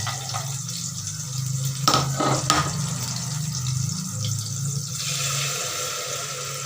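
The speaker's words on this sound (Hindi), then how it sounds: "फिर डाल दूंगी पानी।" Water is poured into a pan of cooking masala with garlic, making a steady gushing, splashing flow close to the listener that runs for several seconds, with a few sharper splashes early on.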